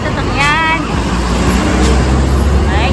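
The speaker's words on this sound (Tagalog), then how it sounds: "Maraming sasakyan na dumadaan." Heavy roadside traffic on a Dubai road, with a loud, continuous rush of many cars streaming past close by and a voice talking over it.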